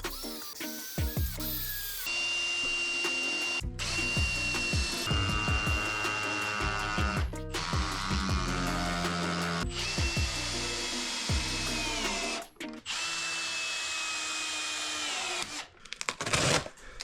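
A power drill bores through a bathroom mirror frame during a bathroom remodel, with repeated close, loud whining runs broken by short stops and restarts, alone without talk.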